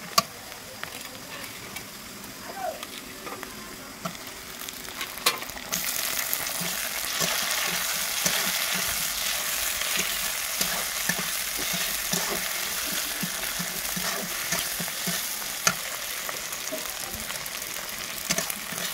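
Sliced onions and tomatoes frying in a pan, a steady close sizzle that swells louder partway through after a quieter start, with occasional stirring clinks.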